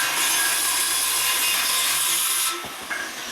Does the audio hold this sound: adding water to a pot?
no